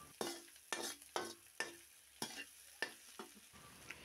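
A spoon stirs egg fried rice seasoned with chilli powder, coriander powder and garam masala in a hot pan, giving seven or eight distinct scraping strokes over a soft sizzle, close and fairly loud with no talking.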